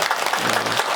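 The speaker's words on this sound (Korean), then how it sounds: "근데 박수가 너무 작네" Brief burst of audience clapping at a Buddha's Birthday dharma service at a mountain temple, a short dense patter heard alone, moderately loud.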